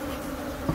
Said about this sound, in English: Just shake those bees off for me, James.